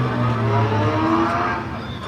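A 1959 Morris historic touring race car at a motoring revival festival passes close by, its engine a steady loud drone that swells and then eases away as it goes by.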